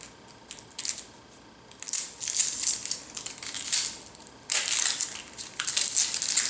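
An onion being peeled by hand, its dry papery skin crackling and tearing in several close bursts of crinkly rustling separated by brief pauses.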